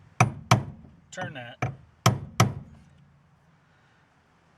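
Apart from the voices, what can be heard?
brass punch struck with a brass hammer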